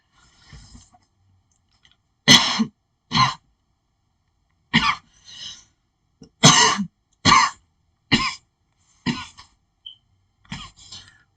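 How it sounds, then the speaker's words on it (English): A series of harsh, close coughs in irregular bursts, some single and some doubled, separated by short silences. "Let's be coughing in y'all ear"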